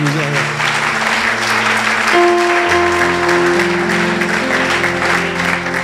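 Congregation applauding and acclaiming Jesus at a church gathering, continuous clapping and cheering over sustained organ or keyboard chords that shift midway.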